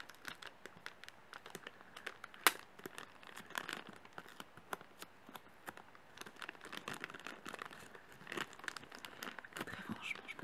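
A surprise package is unboxed close to the microphone, with soft crinkling of wrapping and sharp tearing snaps scattered irregularly over quiet, faint rustling.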